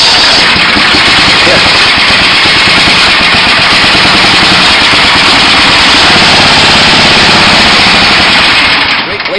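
An 18 hp Tecumseh engine on a 1979 Sears GT 18 garden tractor runs loud and close with a steady, rapid, rattling clatter throughout, cutting off at the very end; a voice briefly speaks over it.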